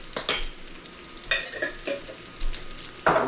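Ingredients for squash and string beans with pork sautéed in a pan with shrimp paste, bursts of sizzling and scraping stirs at irregular intervals, close and moderately loud with quiet gaps between.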